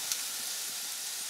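Fingerling potatoes pan-roasting in oil with sea salt, rosemary, peppercorn and smoked paprika give off a steady, quiet, hissing sizzle that holds even throughout, with no talk.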